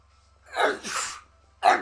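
Sneezes from a streamer during a winter Pokémon Shining Pearl session: two close, loud sneeze bursts back to back, then a third sharp one after a brief pause.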